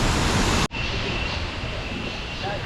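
River water released from a dam near a hanging bridge in Munnar, Kerala rushes in a steady, loud, broad roar, broken by a sudden brief dip before resuming.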